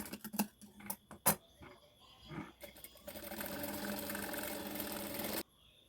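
Ordinary sewing machine stitching a velvet dress, starting with a few separate clicks and taps, then running in a steady close whirring burst for a couple of seconds before stopping abruptly.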